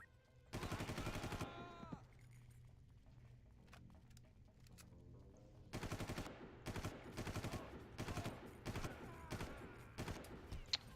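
Rapid automatic gunfire in Far Cry shootouts with armored enemies, a long opening burst, then a lull of ambient noise and scattered single shots before repeated loud bursts and short volleys resume.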